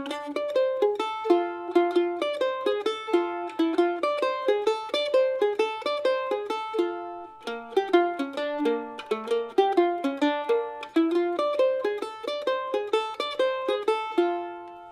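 Mandolin plays a bluegrass tune with quick, bright picked notes in a brisk, even rhythm, close and clear, the melody running continuously with a brief breath in the phrasing midway.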